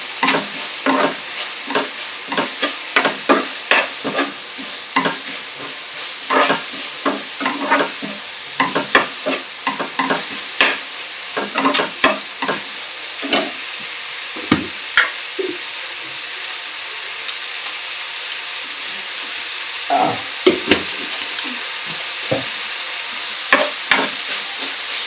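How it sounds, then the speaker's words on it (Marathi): Drumstick leaves with crushed peanuts sauté in a pan, with a low steady sizzle beneath frequent sharp spatula scrapes and clacks in an uneven stirring rhythm, close by and with no talking. "परतून घेऊया."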